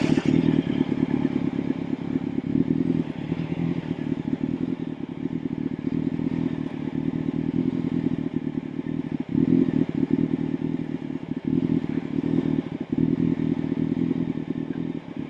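A motorcycle creeps slowly through a low-speed skills drill, its engine holding a steady low rumble with small throttle blips as the clutch is worked, near and continuous with occasional clatter and no talk.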